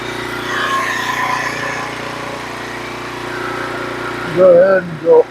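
Norwood HD36v2 sawmill running its hydraulic turner on a big oak log: a steady droning engine hum throughout, with a sharper strained hydraulic whine and knock toward the end.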